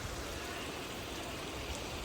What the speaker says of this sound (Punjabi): ਹੁਣ ਮੀਂਹ ਆ ਗਿਆ